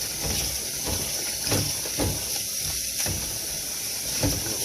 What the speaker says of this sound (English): Just run some hot water in it.